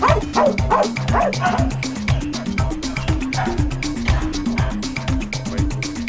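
A Belgian Shepherd dog barks loudly and rapidly at close range, with repeated sharp yips and whimpering cries forming a continuous agitated burst, and faint voices behind it.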